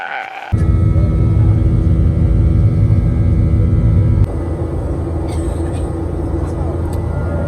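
Inside an airplane cabin during taxi and takeoff, a loud, steady broadband engine roar fills the space, jumping up sharply near the start and easing to a lower drone partway through, with faint higher tones above.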